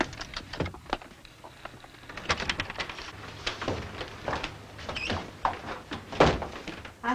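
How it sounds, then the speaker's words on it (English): A door is opened in a classic drama scene, with a series of close wooden thunks, latch clicks and knocks at an irregular pace and no voices over them. "Here, I'll get the door."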